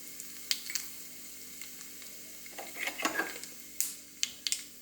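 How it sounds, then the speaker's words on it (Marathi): Mustard seeds and cumin in hot oil for a cucumber salad tempering give sparse, faint crackles and pops over a quiet background, building to a small cluster of spluttering bursts and clicks, with no voices. "त्यामध्ये अर्धा चमचा मोहरी घातले आहे. त्यामध्ये अर्धा चमचा जिरे घालूया."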